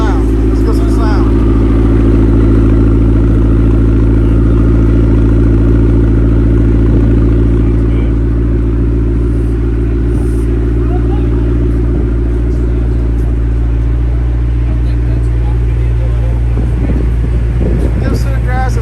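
McLaren 560S sports car engine at a car meet in Oklahoma City, a loud close deep idle and throaty drone that holds steady throughout, with voices talking over it.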